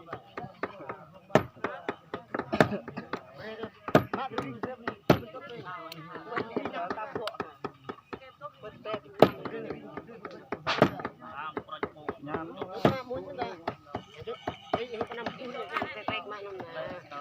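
Cleaver blows chopping pig and cow meat in a Jrai village kitchen in the Central Highlands, Vietnam, sharp irregular thwacks, some in quick bursts, with people talking throughout.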